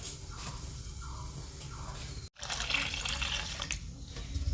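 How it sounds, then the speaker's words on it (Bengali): Soaking water being poured off leftover rice for panta bhat, a steady rushing trickle of water heard up close with a brief break midway, with no talk. "কালকে জল দিয়ে রেখেছিলাম ওই জলগুলো ফেলে দিলাম"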